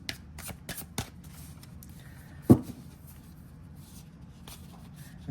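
A thick-cardstock tarot deck with past, present and future placement cards being shuffled, giving soft brushing riffles and one sharp snap near the middle, close and quiet with no talk.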